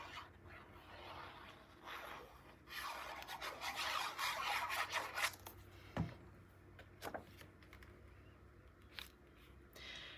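Paper card stock being trimmed to size for a 9 x 9 Ciao Bella Celestial mini album, heard as a few seconds of close, dry rasping cutting strokes, followed by sparse soft taps and handling clicks.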